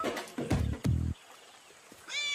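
A cat in the 2019 Kannada film Pehlwaan gives two loud, close meows in quick succession, followed by a brief, faint high-pitched tone.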